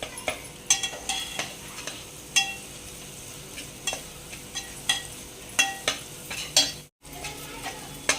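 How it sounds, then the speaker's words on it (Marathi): Grated coconut roasted in a pan is stirred with scattered scraping and tapping strokes of a utensil over a faint, low background, at a moderate level and without speech. "आता आपलं खोबरं परतून झालेलं आहे"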